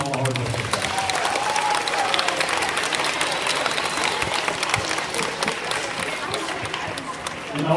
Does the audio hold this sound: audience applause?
yes